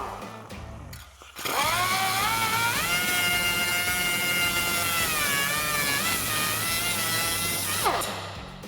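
A power tool cuts through rusted exhaust clamps, soaked in penetrating fluid, on a RAM 2500 pickup, letting out a loud, close, sustained high whine with wavering pitch for about six seconds before spinning down.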